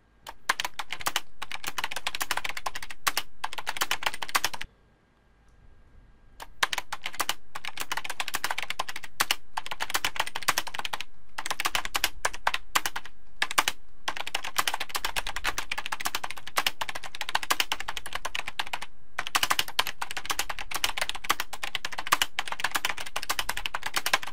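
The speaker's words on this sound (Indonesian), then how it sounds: "Kita lanjutkan dengan mengetik paragraf kedua." Steady, continuous typing on a computer keyboard, close up, with rapid key clicks and one brief pause partway through.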